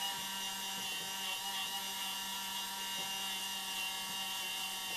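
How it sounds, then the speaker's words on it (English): A Dremel rotary tool fitted with a wire brush polishes ring terminals for glow plug wiring on a Chevrolet military CUCV M1000-series truck, producing a faint, continuous high-pitched whine with no talking. "Wire brush on a Dremel works even better."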